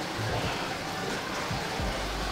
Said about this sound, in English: There's water flowing